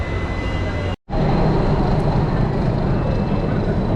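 A steady, loud rumble of an express train rolling into a station, with a brief dropout near the start, then a continuous heavy roar.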